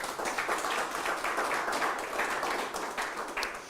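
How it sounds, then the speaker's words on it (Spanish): Applause from an audience at a church seminar, a steady wash of clapping at moderate distance lasting a few seconds. "Denle un aplauso, Señor, por favor."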